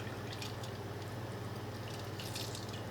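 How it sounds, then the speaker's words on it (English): Tamarind juice squeezed from the pulp and dribbling into a cooking pot for an Indian dish, a soft, steady trickle of liquid with faint drips, close and quiet, with no voices over it. "I'm just adding the last of the tamarind juice"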